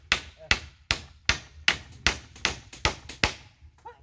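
Hammer blows striking a post outdoors, about ten sharp, loud, evenly spaced knocks roughly every half second, each with a short ringing decay, with faint voices in the background.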